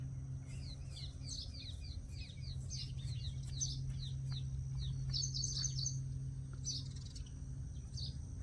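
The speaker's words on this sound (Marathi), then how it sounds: "चिमण्या बसलेल्या बघा मित्रांनो या तारीवरती" Many small sparrows perched on a wire chirp in quick, overlapping bursts, bright and fairly close, over a steady low hum.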